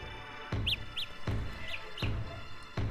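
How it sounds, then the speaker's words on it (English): Samsung Galaxy Buds wireless earbuds emit a lost-earbud alert of quick, high bird-like chirps, paired and repeating at regular intervals, each set preceded by a soft click, fairly close and moderately loud. "if you lose one, it's going to play a chirping sound. It's going to kind of sound like a bird chirping"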